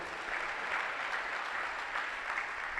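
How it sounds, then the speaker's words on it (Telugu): A church congregation in Guntur claps together in a sustained, even burst of applause, moderately loud and filling the room without a break. "చప్పట్లు కొట్టి ఒకసారి"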